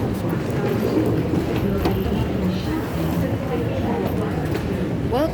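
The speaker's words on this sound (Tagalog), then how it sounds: "We're riding the train." Steady rumble and rattle of a passenger train riding at Kansai airport in Osaka on a rainy day, constant and fairly loud throughout with faint voices mixed in.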